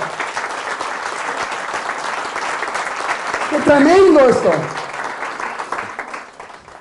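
A church congregation claps loudly after a sermon on the Virgin Mary, sustained, dense applause that swells midway while a man calls out an exclamation over it, then tapers slightly.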